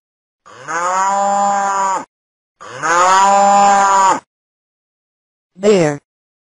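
A cow moos three times up close: two long, loud, steady lows with a pause between, then a brief clipped moo, and no voices.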